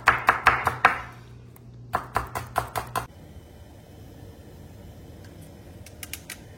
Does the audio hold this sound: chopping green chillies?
yes